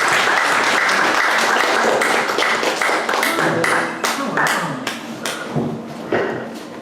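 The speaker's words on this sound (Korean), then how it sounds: "이제 나오실 때에 우리가 큰 박수로 환영하고 맞아주셨습니다" Audience applause at a lecture in Washington, loud and dense at first, then thinning into scattered claps and thuds as it tapers off.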